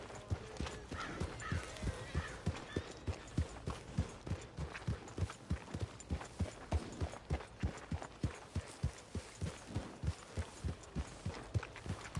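A horse gallops steadily in Red Dead Redemption II, its hooves beating a fast, even clip-clop rhythm close by for the whole stretch, with no talk.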